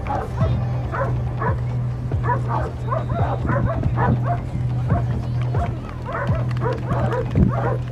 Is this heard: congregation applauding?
no